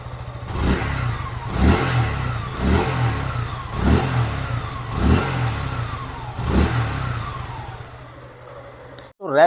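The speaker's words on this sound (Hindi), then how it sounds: "अब मैं थोड़ा सा थ्रोटल देता हूँ," A 2024 Suzuki Gixxer SF 150 motorcycle engine is revved in five or six short bursts, each throttle blip rising then falling back toward a steady idle.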